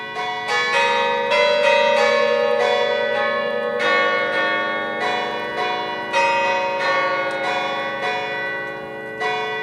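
Church bells ring from Alsace churches for the opening of the Christmas markets, loud overlapping metallic strikes repeating in an irregular peal with long ringing decay.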